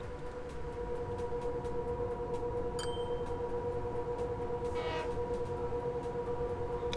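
High-speed TGV and Shinkansen trains running in the Train Fever video game, a steady rumbling rail drone with tonal hum and brief horn-like bursts throughout.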